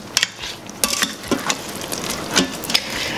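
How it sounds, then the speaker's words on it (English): Apple crisp being stirred in an Instant Pot, giving a few irregular scraping clinks of a utensil against the inner pot, close and fairly loud. "We're gonna give it a good stir around."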